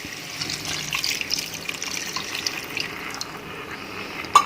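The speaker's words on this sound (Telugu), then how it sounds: "ఇప్పుడు ఇందులో నేను ఆల్రెడీ పొటాటోస్ని బాయిల్ చేయడానికి వాడిన వాటర్ని ఇందులో యాడ్" Water left from boiling potatoes pours into an aloo curry in a pan, a steady close trickle and splash lasting a few seconds, with a sharp clink near the end and no talk.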